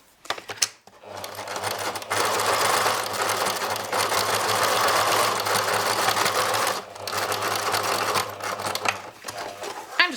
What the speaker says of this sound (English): pretty short stitch length, and then I'm going to fold it over and stitch again.